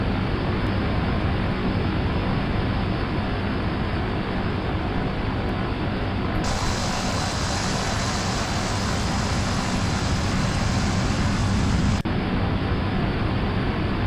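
Simulated Cessna C208B Grand Caravan taxiing on an airport ground in X-Plane 11, a steady loud turboprop drone that runs unbroken throughout with no change in level.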